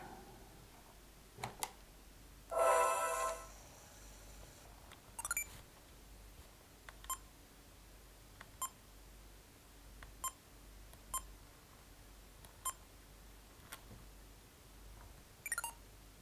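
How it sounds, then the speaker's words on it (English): Short electronic beeps from a 2001 Sony DSC-S85 digital camera's menu, spaced irregularly in a quiet room, with one longer startup tone near the start and faint clicks between them. "a startup sound and retro beeps in the menu"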